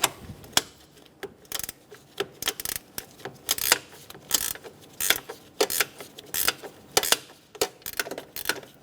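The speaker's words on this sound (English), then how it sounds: "Using a 10mm, we're going to remove the bolt for the coolant tank." A ratchet with a 10mm socket works loose the coolant tank bolt on a 2003-2007 Honda Accord 3.0L V6, producing rapid, repeated metallic clicks in uneven bursts, close and fairly loud, with no talking.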